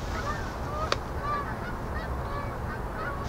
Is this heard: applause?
no